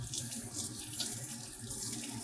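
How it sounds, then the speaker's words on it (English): Warm water runs steadily from a faucet into a sink as hands are washed with soap, a continuous close splashing rush with no voices. "When washing your hands, wash with warm soapy water for 20 seconds."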